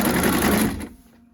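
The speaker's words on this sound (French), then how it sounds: "So I'm sewing also the side now." A sewing machine runs the side seams of a simple dress, a rapid close buzzing stitch that carries on for most of a second, then stops and leaves only quiet room sound.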